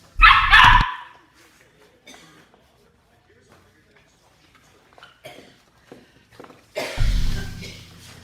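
Excited puppies bark in loud bursts at the start and again near the end, separated by a long quieter stretch with faint indoor sounds.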